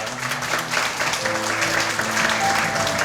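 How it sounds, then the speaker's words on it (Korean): Wedding guests applaud right after the groom reads his vows, a steady round of clapping that holds for about three seconds with faint tonal hum beneath. "네, 박수 부탁드리겠습니다."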